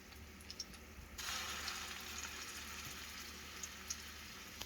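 Venison meatballs fry in a pan for a wild mushroom venison stew, a steady broadband sizzle that swells up loudly after a quieter start and keeps going, with a few small pops and no talking.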